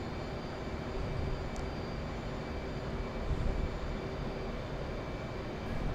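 A jet in the DCS flight simulator taxis ahead of a scramble takeoff, giving a steady, continuous engine whine and rumble at moderate level with a constant tone and no speech.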